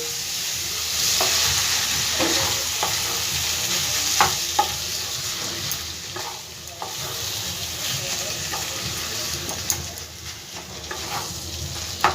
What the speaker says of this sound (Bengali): ভালো করে মশলার সাথে চিকেনটাকে আমি কষিয়ে নেব।